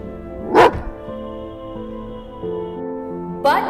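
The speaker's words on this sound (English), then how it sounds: "he opened his mouth and started barking at his own reflection" A cartoon dog barks in an animated children's moral story, with one sharp bark near the start and another at the end over a sustained tonal music bed.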